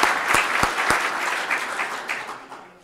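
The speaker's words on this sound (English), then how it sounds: "So round of applause towards that." An audience at a city's State of the City address gives a round of applause, a dense patter of many hands clapping, with a few louder nearby claps at the start, gradually fading out.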